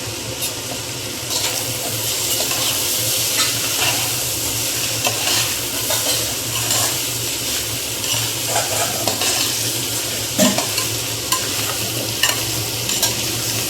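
Curry leaves fry in a pan of spicy chilli chicken, giving a loud, steady, close sizzle with stirring scrapes and bubbling throughout.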